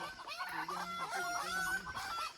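A rooster crows repeatedly at a rural Thai temple and village, its harmonic calls layered with clucking hens, steady and fairly loud close by throughout.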